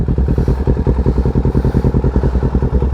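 A 2022 Kawasaki Ninja 650 motorcycle engine revs close by with a loud, rapid, pulsing rumble, throbbing steadily throughout with no talk.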